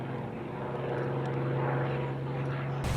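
A P-40C Tomahawk II warplane's engine drones steadily and loudly through an airshow manoeuvre, a sustained propeller roar with a constant low hum that cuts off abruptly at the end.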